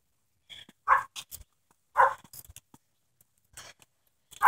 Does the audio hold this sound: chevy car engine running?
no